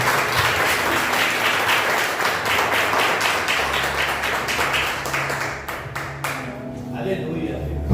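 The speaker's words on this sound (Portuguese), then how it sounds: "Aplauda o Senhor Jesus Cristo." A church congregation applauds during an evangelical service: dense, loud clapping that thins out toward the end, with a voice speaking over it.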